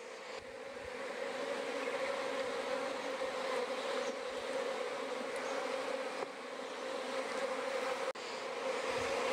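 A dense, steady drone of many honeybees buzzing close by in an open hive, unbroken for the whole stretch, with no voices.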